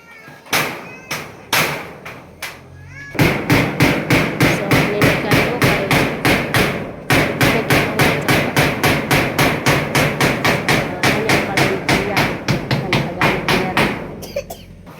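Steady hammering as nails are driven into corrugated iron roofing sheets on a house roof, loud sharp metallic blows in a fast regular rhythm, a few scattered strikes at first, then continuous pounding with one short pause, close by.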